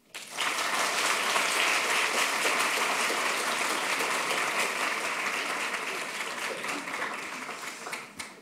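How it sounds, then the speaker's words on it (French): An audience at a business school eloquence competition final applauding the jury steadily for several seconds, dense continuous clapping that swells quickly, holds, then gradually tapers off. "un jury d'exception que je vous demande d'applaudir"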